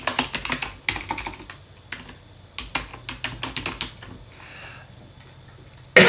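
Quick bursts of typing on a computer keyboard, close and crisp, with irregular clusters of key clicks separated by short pauses.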